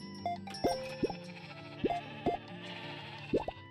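Several short sheep bleats in the shop-management video game Discounty come in uneven bursts, fairly quiet over a soft game background hum, with no talking.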